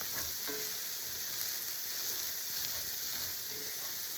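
Baked ziti ingredients with Italian sausage being stirred and mixed in a pan, giving a steady close sizzle and frying hiss with soft scraping stir strokes, no talking.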